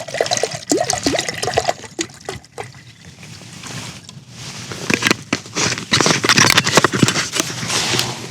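Carbonated water poured from a bottle outdoors during a camp stove test, giving a loud, uneven gurgling splash with bursts and fizzing that rise and fall over several seconds, with no voices.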